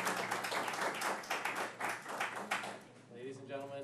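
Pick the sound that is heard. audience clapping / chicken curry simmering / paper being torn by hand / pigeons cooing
audience clapping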